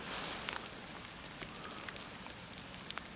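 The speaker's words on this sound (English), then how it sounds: "as the rain comes down" Steady rain falls outdoors on a quiet day in the countryside, a soft constant patter with a few sharper drops landing nearby and no one speaking.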